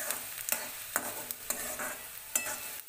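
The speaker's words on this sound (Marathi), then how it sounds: "थोडं गुलाबीसर रंगावर परतून घेऊया आपण" Chopped onion sautés in a pan for a dhaba-style whole masoor gravy, a steady sizzle with regular scraping strokes of a spoon stirring it, close by and with no talking.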